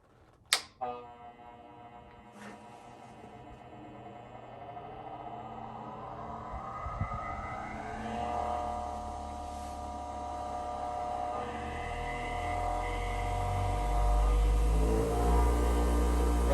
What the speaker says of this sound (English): you can slow down or speed up the grinding wheels